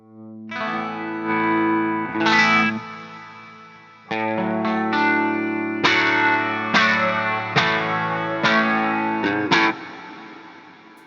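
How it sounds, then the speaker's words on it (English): Electric guitar through the THU Overloud amp simulator with a deep flange effect, chords ringing and swirling with modulation, loud and alone. "Let's try the deep flange just to hear some of the modulation effects that they have going on here."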